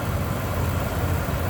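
A 1997 Dodge Ram 1500 SLT Laramie 4x4 with a stock 5.9-liter V8 and automatic transmission runs smoothly at idle, a loud, steady low rumble heard close up under the open hood.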